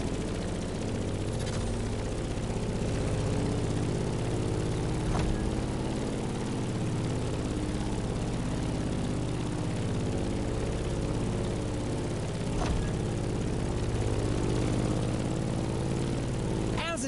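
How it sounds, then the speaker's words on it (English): A Grumman F8F Bearcat propeller plane drones steadily in flight in the racing game The Crew Motorfest, its piston engine humming continuously with a few faint clicks over the top. "In the cockpit of a stunning Grumman F-8F Bearcat, or simply the Bear."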